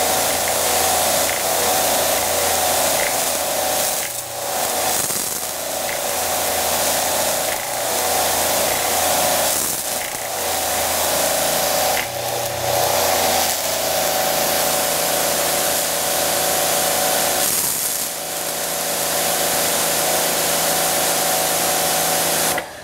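A pressure washer spraying as air runs out of its lines, a loud, close, continuous hiss and roar with a pump droning underneath and brief dips where the trigger releases.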